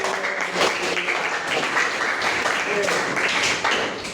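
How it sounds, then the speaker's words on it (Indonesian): Students in a classroom applaud a classmate's presentation, a brief burst of clapping from a small group with some voices mixed in. "Berikan tepuk tangan."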